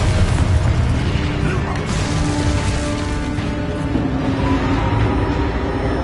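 Spell blasts from combat in the video game Hogwarts Legacy, dense booming explosions and crackling bursts layered over a heavy rumbling bed, loud and continuous with little pause.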